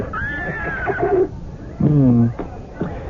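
A horse whinnying as a radio drama sound effect: two clear, close neighs, a rising high call followed by a lower shuddering one, with a short snort between them.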